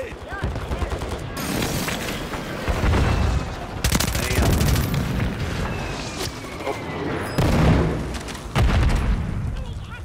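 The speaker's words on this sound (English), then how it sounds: "Throwing stun grenade." Stun grenade blast and gunfire in Call of Duty: loud bangs and bursts of shooting repeat every few seconds over a dense battle din, with a voice talking over it.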